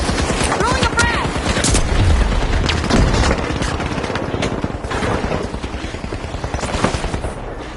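A frag grenade explosion and gunfire in the video game The Finals arena make a loud, dense stretch of shots and blasts, while voices talk over the din.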